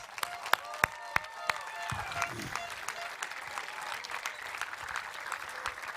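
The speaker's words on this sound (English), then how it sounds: "let's get a big applause to all the youngsters here" Scattered applause from an outdoor crowd at a junior world orienteering championships relay, with a few sharp individual claps early on, then a steady, moderately faint patter of many hands continuing throughout.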